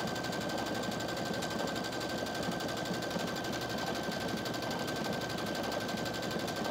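A sewing machine stitches embroidery on fabric with a fast, steady mechanical chatter and a constant whine, heard faintly and evenly throughout without any voices.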